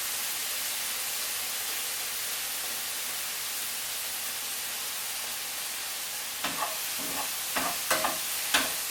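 Prawns frying in a pan with sweet chilli sauce give a steady, even hiss of sizzling throughout, with a few sharp scrapes and clacks of stirring near the end.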